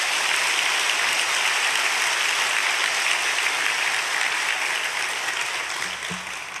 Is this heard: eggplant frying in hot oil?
no